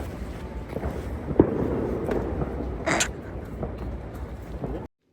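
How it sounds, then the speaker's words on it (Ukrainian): New Year's fireworks in Munich crackle and pop as a couple of sharp bursts within a steady wash of outdoor crowd noise and voices. "ми пішли дивитись на салюти"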